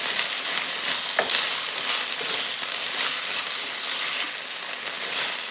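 Cubed potatoes sizzle loudly in a hot pan while being stirred, a dense continuous frying hiss with a couple of brief scrapes, close up.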